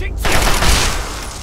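Rifle fire from a weapon shooting 5.56 rounds in Fallout 3, a loud close burst of shots with dense noisy decay, a voice faintly present beneath.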